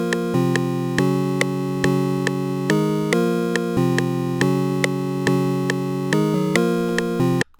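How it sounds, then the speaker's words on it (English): Synth chord progression for a beat: bright, sustained chords changing in a steady rhythm, each with a sharp attack, looping for several bars and cutting off abruptly, with no voices. "this is what the chord progression is gonna sound like."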